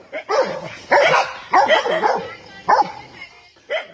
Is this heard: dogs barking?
yes